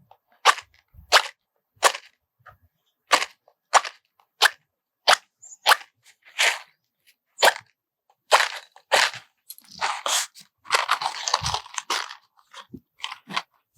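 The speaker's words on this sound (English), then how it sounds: "Then we're going to light up a match." Old matches struck repeatedly, a series of sharp close scratches roughly every half second, ending in a longer rough flare as one finally catches and burns.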